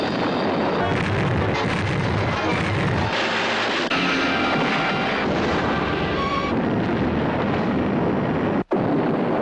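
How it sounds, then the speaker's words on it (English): Loud, dense booming blasts and rumbling roar fill the scene continuously, with crackling bursts layered over it before an abrupt cut near the end. "Explosion always looks good."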